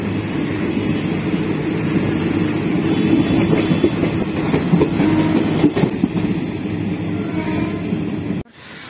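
A passenger train on the Sealdah to Birbhum route runs steadily, with a loud sustained rumble and clattering wheels throughout before the sound abruptly cuts off.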